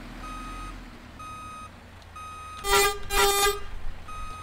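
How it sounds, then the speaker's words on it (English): In the OMSI 2 bus simulator, a bus reversing alarm sounds a steady series of evenly spaced beeps, briefly interrupted partway through by a couple of loud horn-like blasts. "Oh, nice solid reversing sound."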